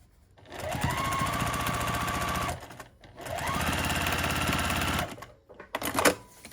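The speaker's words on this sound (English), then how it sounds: "One right on the edge where I'm sewing now" A sewing machine stitches along the edge of a duffle bag in two long steady runs of rapid needle chatter, with short pauses and a brief clatter at the end.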